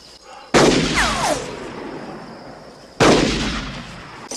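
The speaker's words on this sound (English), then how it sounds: "You must be shooting that over there. Shooting way over yonder." Two loud gunshots from a western film crack a few seconds apart, each trailing off in a long, echoing rumble across open country.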